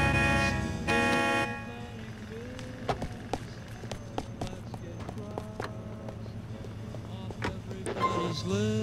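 A car engine hums and shifts in Grand Theft Auto IV, with clicks and brief tones over it, and a louder blaring burst near the start.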